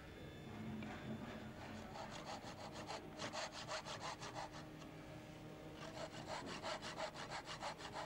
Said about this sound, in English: He will then cut the second dovetail just inside these lines.